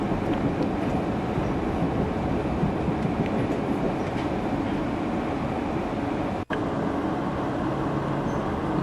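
Amtrak's Southwest Chief passenger train rolls along the rails near Chicago, heard from inside as a steady, loud, continuous rumble with faint rhythmic clicking and a brief dropout near the end.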